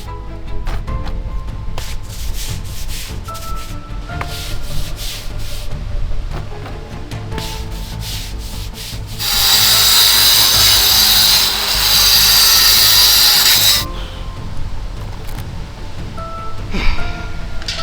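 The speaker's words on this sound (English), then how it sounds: "this mortar in the pointing is so hard, it's taken an awful lot of work to grind it out" A power grinder cuts hard mortar pointing out from between Indian sandstone patio flags in Harrogate, a loud harsh rasping whine for several seconds, with quieter scraping and tool handling before and after.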